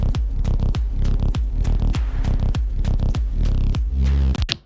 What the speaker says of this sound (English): So you have a drum loop audio sample